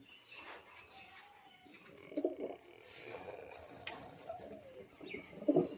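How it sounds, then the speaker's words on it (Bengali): Pigeons in a loft cooing softly, low throaty calls repeating at intervals over quiet room sound, with a faint flutter of wings. "পায়রাটা দেখো কেমন"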